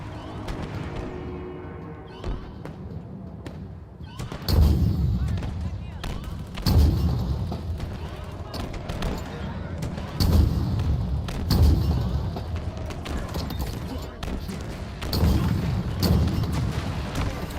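Halo video game gunfire pouring into the open interior of alien dropships, heavy booming shots and thuds in repeated bursts over a dense battle rumble, with a voice talking now and then.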